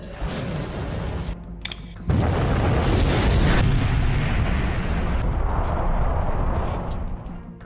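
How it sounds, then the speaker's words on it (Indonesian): A massive nuclear-bomb-like blast from a royal weapon in an anime battle erupts as a loud, sustained roar, with a sharp burst near two seconds and a rumble that fills the scene. "Ledakan yang mirip seperti bom nuklir itu kemudian menghancurkan seluruh wilayah tersebut."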